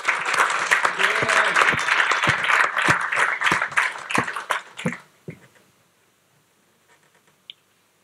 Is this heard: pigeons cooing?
no